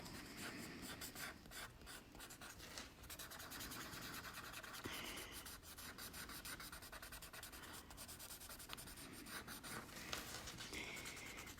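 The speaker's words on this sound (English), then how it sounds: "So be gentle with your pencil and don't press down too hard" Graphite pencil shades across drawing paper in a steady, soft rubbing scratch, continuous strokes close up and quiet, with no one speaking.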